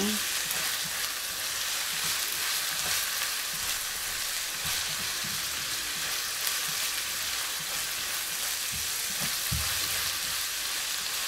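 Garlic and celery fry together in a hot pan with a steady, loud sizzle, with occasional scrapes and clinks of a utensil stirring them throughout.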